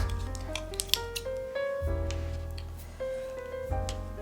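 Scissors snip repeatedly through material for a DIY Disney pin board, several close crisp cuts in steady rhythm over a low background hum, with no talking.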